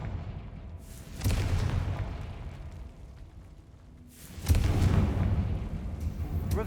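Two heavy blasts from the Confringo fire spell in Hogwarts Legacy, each a sudden loud boom with a long rumbling tail, spaced a few seconds apart over a steady game background.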